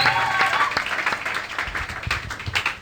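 A church congregation applauds in a loud, continuous spread of clapping that fills the room, with voices faintly mixed in.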